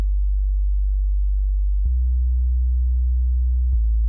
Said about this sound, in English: for my sub, I'm using Nexus. It's just a simple sine wave.